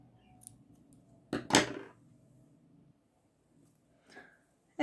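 Scissors snip crochet yarn after a chain, one crisp close cut, with faint handling noises before and after in an otherwise quiet room.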